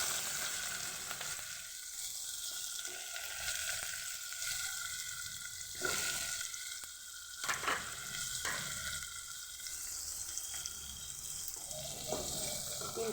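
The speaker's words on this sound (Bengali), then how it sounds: "পেঁয়াজকে আমি কুচিয়ে একদম সুন্দরভাবে ভেজে নেব একদম লাল লাল করে ভেজে নেব" Chopped onions frying in oil in a pan, a steady hiss of sizzling with a few stirring scrapes and clinks, continuous and fairly close throughout, no voices.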